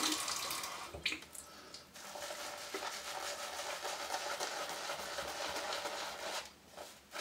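Running water pours steadily from a tap into a container, a loud, continuous rushing close by with a brief change in flow near the start.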